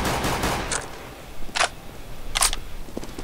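Sharp shots from a multiplayer bomb-defusal shooter game ring out in a few brief, separated bursts over a steady game backdrop, moderately loud and close, with no talk.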